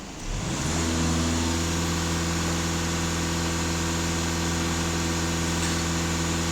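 A diesel car engine held at raised revs during a DPF differential pressure check, a steady close drone that climbs at the start and then holds level with no talking.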